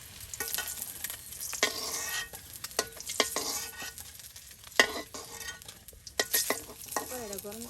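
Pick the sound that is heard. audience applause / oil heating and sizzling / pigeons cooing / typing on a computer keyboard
oil heating and sizzling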